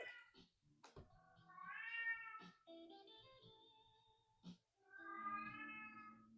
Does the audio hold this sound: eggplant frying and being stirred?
no